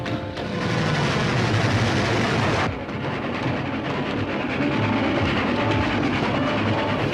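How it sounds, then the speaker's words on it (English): A freight train rumbles loudly along the tracks in an old serial, a heavy continuous roar of wheels and rolling cars with a faint rhythmic clatter, steady throughout with a brief shift in tone midway. "Any way to stop that train?"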